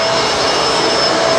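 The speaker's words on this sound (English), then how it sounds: "I'm pretty impressed with this vacuum." A Bissell MultiClean Allergen Pet vacuum cleaner running on hard floors: a loud, steady, close motor roar with strong airflow hiss and a faint whine, unbroken throughout, with no talking.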